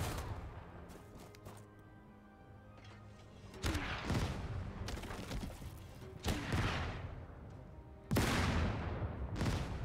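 Artillery fire in the WWII tank strategy game Total Tank Generals at Stalingrad: a muffled rumble of distant gunfire under which several sharp, loud blasts land irregularly, with the heaviest impact near the end.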